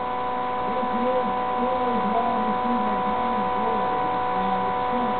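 An electric motor's rotor spins steadily under magnet biasing, giving a continuous tonal hum with a wavering low whir, close and even throughout.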